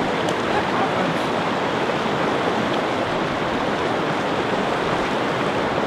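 Cold water splashes and rushes steadily during a quick wash-off outdoors in Colorado, a dense, continuous close wash of noise with no voices.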